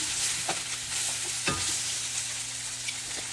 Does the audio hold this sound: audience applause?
no